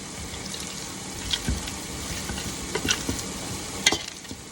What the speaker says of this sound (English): And then we are going to mash them.